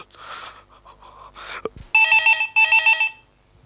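A telephone in an indoor drama scene rings loudly in two bursts of repeated electronic trills, following brief movement sounds and a sharp knock.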